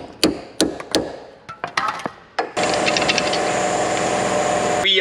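A boat trailer axle hub is smacked between the splines: about seven sharp metallic blows in an uneven rhythm, close and loud. A steady, loud broadband roar follows and runs to the end.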